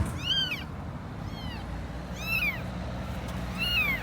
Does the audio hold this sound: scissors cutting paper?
no